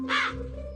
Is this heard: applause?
no